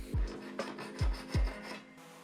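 Wood being sanded by hand in a few short rasping strokes, with thuds between passes, close by and fairly quiet.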